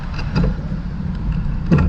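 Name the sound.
mobility scooter driving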